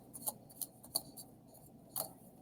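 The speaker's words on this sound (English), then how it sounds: "So I'm going to shuffle" Tarot cards from a Tattoo Tarot deck being shuffled, with a few soft, crisp card snaps and riffles at irregular moments over a quiet, faint background, no talking.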